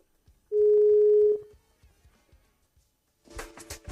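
A steady telephone line tone sounds as a radio studio picks up a listener's call. The single clear pitched beep lasts under a second, followed by quiet and then a burst of line noise and voice.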